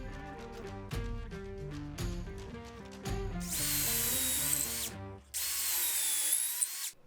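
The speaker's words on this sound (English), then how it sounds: "both of these tools will drill holes for dowel joinery" A power drill whines loudly in two long bursts, boring dowel holes in wood, over a backdrop of steady music.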